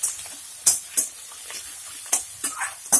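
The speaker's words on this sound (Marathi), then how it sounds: "त्याच्यातच मी बारीक चिरलेला कांदा पण टाकतीये" Chopped onion hisses and sizzles in a hot pan for kande pohe, a steady broadband frying crackle punctuated by several brief louder bursts of spatter or stirring, close and moderately loud with no talk.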